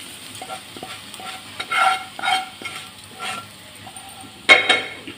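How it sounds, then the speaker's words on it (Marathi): Hot tempering is poured over chopped onions and stirred for a spicy onion-garlic chutney, producing soft sizzling with several stirring scrapes and a sharp clink of a utensil near the end. "ही फोडणी गरम असताना या कांद्यात आपल्याला ओतून घ्यायची"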